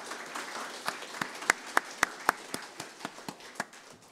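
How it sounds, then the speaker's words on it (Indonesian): Scattered, sparse claps from a church congregation at a Sunday evening service, a dozen or so distinct hand claps spaced irregularly over a quiet room, moderately close. "Tepuk tangan sekali lagi."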